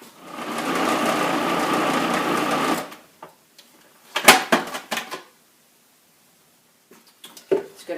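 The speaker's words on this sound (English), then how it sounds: "add them to the food processor. Also the dates. We're going to grind those also to be fine." A food processor whirs loudly and steadily for about three seconds, grinding dates with soaked pecans, then cuts off, followed by scattered clunks and clatter of the bowl and lid.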